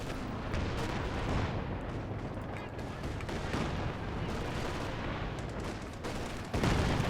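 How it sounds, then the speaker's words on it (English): Katyusha rocket artillery barrage in Company of Heroes 2 striking a Grenadier squad, a dense continuous rumble of rapid impacts and blasts throughout, with a heavier burst near the end. "Katyusha trying to get the kill on the Grenadier. I think this barrage will do it."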